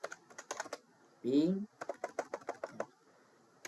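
A computer keyboard clatters with quick bursts of keystrokes while a ping command is typed into the command prompt, with a short hum-like sound near the middle breaking up the typing.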